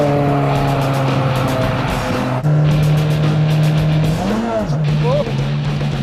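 A 2004 Lotus Elise sports car is driven hard, its engine droning loud and close with revs rising and dropping through gear changes, and a brief tire squeal as it is pushed.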